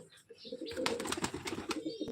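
Young pigeons coo at a bird dealer's, a low murmuring call repeated under other chirps and rustling, close by with a continuous busy backdrop.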